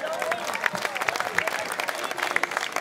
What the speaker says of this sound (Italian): Pasquale Ostorgio, vicepresidente, l'applauso